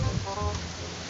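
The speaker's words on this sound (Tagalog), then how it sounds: "Ulan eh." Steady broadband hiss of rain falling on a surface, continuous and fairly loud, with no voices.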